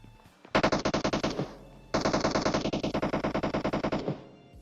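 Two long bursts of rapid automatic gunfire in PUBG Mobile, each a fast, even rattle of loud shots, separated by a brief pause.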